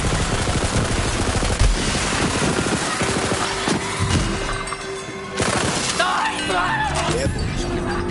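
Machine gun fire in Borderlands, loud rapid automatic bursts with glassy impacts and crashes, running close and continuous beneath someone talking.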